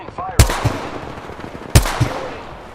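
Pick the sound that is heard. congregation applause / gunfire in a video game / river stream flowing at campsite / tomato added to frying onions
gunfire in a video game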